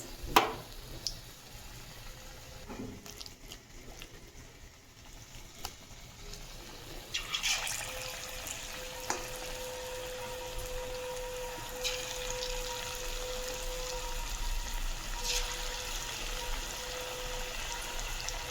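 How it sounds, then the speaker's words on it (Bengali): Potato chips frying in hot oil for crispy potato pakoras, a steady sizzling hiss that swells in abruptly partway through and continues loud and bubbling to the end, with no talk. "দেখুন আজ আমি ভাজছি পটাটো"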